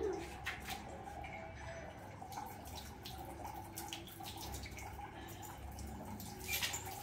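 Water pours and splashes steadily over a dog during an outdoor bath, a continuous wet trickle and patter with small drips, fairly close and moderately loud throughout.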